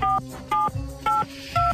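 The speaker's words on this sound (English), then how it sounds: "We're going to phone her, see if we can set her off." Four short telephone keypad tones, evenly spaced, each a clear dual-pitch beep separated by brief gaps, loud and alone with no talking.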